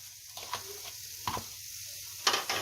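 Capsicum, cabbage and carrot stir-frying in a pan for Schezwan noodles frankie, Mumbai street style: a low steady sizzle with a few short scraping stirs and a brighter burst near the end, fairly faint and without speech.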